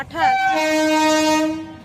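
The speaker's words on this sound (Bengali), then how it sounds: "গাইস ট্রেন ঢুকে গেছে" A train pulls into a station, sounding a loud, sustained horn for about a second and a half that swells in and fades at the end.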